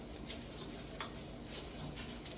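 Spanish rice frying in a pan, partway cooked and browning on the bottom, gives a steady close sizzle with soft crackles and occasional stirring scrapes, no voices.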